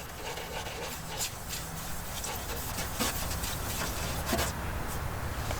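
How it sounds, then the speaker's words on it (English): Light-pressure scuffing of the clear coat on a Ram Promaster 3500 van, deglossing the finish before mounting an awning: a steady soft rasping rub that runs throughout, close and moderate in level, with no talking. "just basically deglossing the clear coat. Not trying to get to the paint, not doing a heavy, just using a light pressure."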